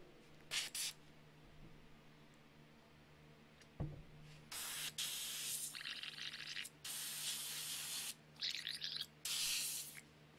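Airbrush spraying Vallejo gloss varnish while painting a Warhound miniature: short bursts of airy hiss, then several longer sustained sprays in close succession, loud and close, with brief pauses between.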